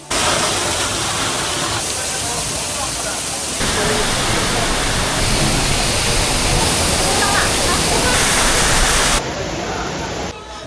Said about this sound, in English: It's always fun when you can see and walk along the back side of a waterfall.